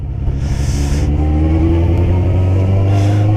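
Suzuki GSX-F 600 motorcycle engine running close by, a loud steady low rumble with layered harmonics and a slight rise in revs, alone without talk.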